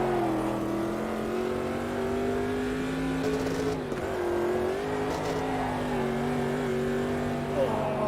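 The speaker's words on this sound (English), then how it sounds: "The car goes light over that brow and then spins up the rears." A GT race car engine drones steadily at high revs in the Automobilista 2 sim racing game, its pitch sliding up and down through gear changes and lifting slightly over a brow, loud and continuous throughout.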